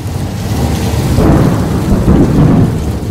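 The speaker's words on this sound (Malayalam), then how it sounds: "എന്താണിപ്പോൾ പെട്ടെന്നൊരു മഴ?" Thunder and rain play as a staged sound effect in a Malayalam Bible skit at a church arts festival. A loud, continuous rumble rolls over a dense hiss of rainfall, with no voices.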